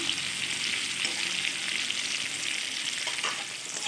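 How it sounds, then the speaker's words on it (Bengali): Young jackfruit pieces frying in oil over medium heat, a dense, steady sizzle throughout with a light stirring scrape near the end. "এঁচোড়গুলো আমি ভেজে নেব"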